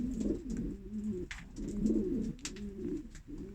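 Racing pigeons coo softly in a loft in England, steady overlapping rolling coos repeating in slow waves, close but fairly quiet, no voices.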